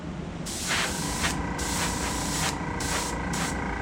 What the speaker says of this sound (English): I used a little bit less air pressure so that way we can have a more controlled spray